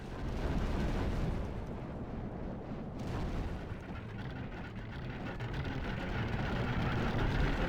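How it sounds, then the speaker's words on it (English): Catapult shots from a Lord of the Rings strategy game land outside a settlement as a dense, continuous roar of distant booming impacts, rumbling steadily without pause. "There are shots landing outside the settlement."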